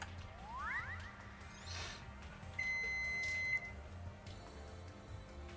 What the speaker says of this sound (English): You all heard my buzzer